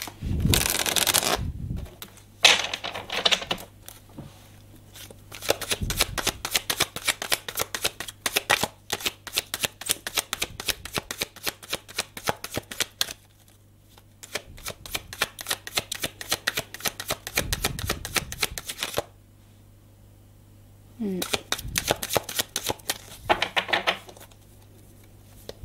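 A deck of tarot cards is shuffled in repeated bursts of riffling and flicking, close and fairly quiet, with short pauses between rounds and no talk.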